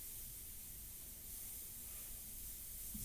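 An Iwata Eclipse-style Extreme Patriot Aero airbrush sprays India ink in a faint, steady, airy hiss that holds evenly for the whole stretch.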